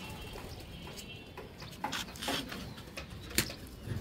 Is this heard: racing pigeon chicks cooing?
yes